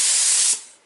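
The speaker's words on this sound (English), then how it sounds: "Got my clear coat already mixed up. Let's spray it." A single short, close hiss of a spray can releasing clear coat over copper plating on a 1952 car's dash panel, lasting about half a second before fading out.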